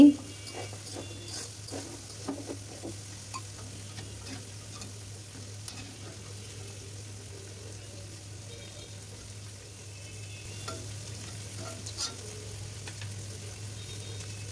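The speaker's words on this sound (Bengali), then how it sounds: "আমি হালকা লাল লাল করে ভেজে নিচ্ছি।" Eggplant fritters deep-fry quietly and steadily in oil with a soft, constant sizzle, broken by occasional small clicks and pops, over a low background hum.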